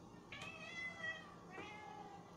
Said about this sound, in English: He's like your stereotypical black cat. The deep meow and everything.